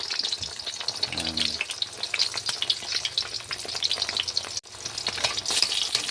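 A sunny side up egg frying in a pan, a loud steady sizzle with crackling pops up close, briefly interrupted by a short dip before continuing.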